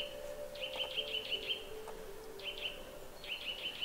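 A small bird in a winter forest repeats quick bursts of high, thin chirps in several short series, moderately near, over a faint steady background hum and hiss, with no talk.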